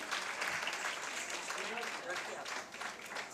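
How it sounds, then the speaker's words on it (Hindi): Audience clapping for the artists at a cultural program, a brief burst of applause somewhat distant and soft, with voices mixed in. "एक बार जोरदार ताली।"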